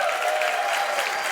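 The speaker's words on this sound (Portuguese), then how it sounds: "Vamos aplaudir a nossa banda," An audience at a Christmas-season stage event applauds the band, with steady dense clapping throughout and a faint voice underneath.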